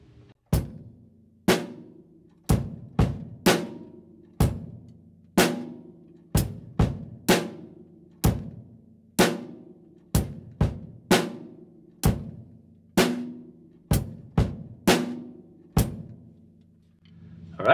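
Drum kit groove played at a slow steady tempo, sharp cymbal or snare strikes falling in a regular pattern over a low bass drum thump with an added extra kick, repeating cleanly for the whole stretch with no talking.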